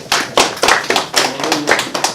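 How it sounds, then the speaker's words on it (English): A congregation at a worship service gives a rhythmic hand-clap praise, about nine sharp, close claps in an even beat with no talking. "Give Almighty our hand clap praise."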